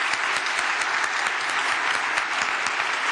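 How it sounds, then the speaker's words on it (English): A conference audience at the 2011 Innovation Convention in Brussels applauds a panel, with dense, even clapping sustained at full volume throughout and a faint crowd murmur beneath. "Let's give them a round of applause."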